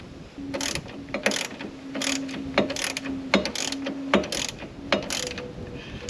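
Ratchet wrench working a large nut loose on a Polaris wheel hub, a rapid clicking pawl sounding in repeated short bursts with brief pauses between strokes, close and fairly loud, with no talking.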